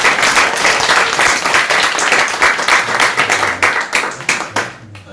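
A church congregation at a student chapel service claps in welcome and thanks, loud, dense applause filling the room for several seconds before thinning out and fading at the end.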